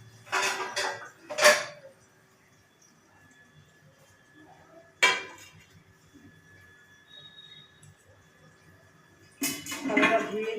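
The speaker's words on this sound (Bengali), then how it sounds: "থালাটা ধুয়ে নিই, ধুয়ে তারপর ভাতটা কাটবো।" Plates clanking and clattering in short bursts while being handled and washed, with quiet gaps between the clinks; no talking over it.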